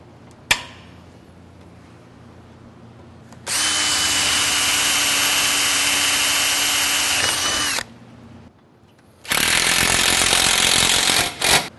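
Power tool cutting plastic snap pocket cable channel for a stair railing: a sharp click, then two loud sustained high-pitched whining cuts of several seconds each, separated by a brief quiet pause.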